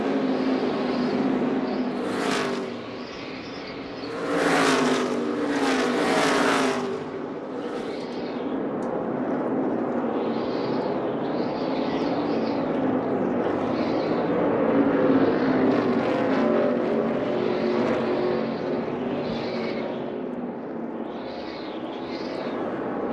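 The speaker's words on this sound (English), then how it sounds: "Next time around, 20 to go as Edwards, Johnson, the gap remains stable" NASCAR stock cars racing at the 2013 Subway Fresh Fit 500, heard as a continuous roar of engines with cars sweeping past in waves, and loud, close engine bursts early on.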